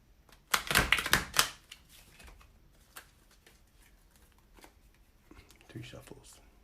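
Tarot cards are shuffled in a fast riffling burst up front, followed by quieter, scattered card slaps and shuffles while someone talks.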